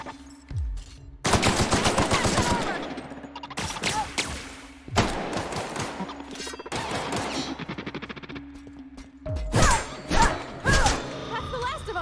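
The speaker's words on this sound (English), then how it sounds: "I'm gonna shoot out bullets." Bursts of video-game gunfire: rapid automatic volleys of loud, close shots come in several separated strings with short gaps between them, ending in a few heavier single bangs.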